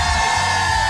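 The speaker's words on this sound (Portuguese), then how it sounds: "Isso aqui mereceu aplauso." A crowd whooping, yelling and cheering at a television show, a loud, continuous wall of voices at steady level with a sustained tonal hum running beneath it.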